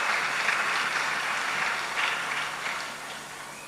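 A church congregation applauding, steady, fairly loud clapping that holds throughout and fades slightly at the end.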